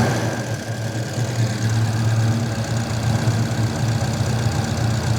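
A turbocharged V8 police car with custom exhaust, EFI and intercooler idles at around 800 RPM, a steady close low rumble that holds evenly throughout with no voices.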